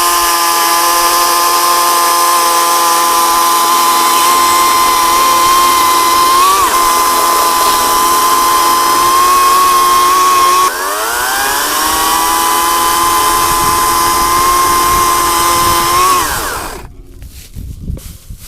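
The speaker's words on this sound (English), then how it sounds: "That is the ENHULK Pro Series electric chainsaw, 16-inch blade, brushless motor, and it works great." An ENHULK 58V Pro Series brushless electric chainsaw with a 16-inch blade cuts through logs, whining loudly and steadily at close range, its pitch dipping under load, and then it stops abruptly near the end.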